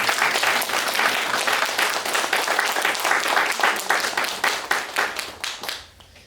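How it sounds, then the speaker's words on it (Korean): Congregation at a New Year's Eve church service claps in thanks, dense applause that gradually thins into scattered individual claps and fades out near the end. "하나님께 감사와 영광의 박수를 한번 올리고"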